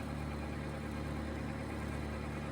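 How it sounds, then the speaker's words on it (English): A sub-compact Massey Ferguson tractor runs with a 4-foot brush hog mower attached, producing a loud, steady engine drone with a constant low harmonic hum and no breaks. "This is a 4-foot brush hog."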